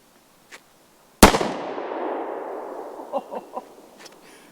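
A single sharp gunshot cracks from a Bond Arms 9mm Texas Defender derringer fired outdoors, loud and close, with a long decaying echo and a few faint clicks and knocks afterward.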